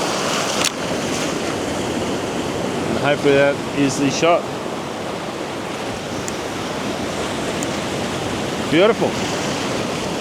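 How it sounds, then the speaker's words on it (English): Ocean waves roll and crash on a shore under a moonlit sky, a loud continuous surf roar with gusting wind noise on the microphone, as someone speaks briefly near the start and again near the end. "Just waiting for some waves to come to crash."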